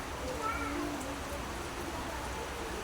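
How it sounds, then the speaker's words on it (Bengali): Heavy monsoon rain pours outside a school, a broad steady wash of falling water with a faint voice-like murmur in the first second. "ঘন ঘটা বৃষ্টি"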